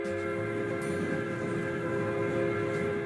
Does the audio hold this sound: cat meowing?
no